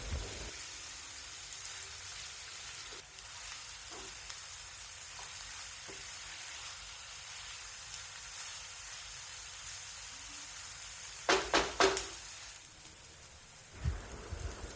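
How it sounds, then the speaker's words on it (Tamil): Onion and tomato sautéing in a pan over a medium-high flame, a steady close sizzle running throughout, with a few brief stirring clatters near the end. "லோ ஃப்ளேமை விட கொஞ்சம் கூடவே வச்சு வதக்கணும்."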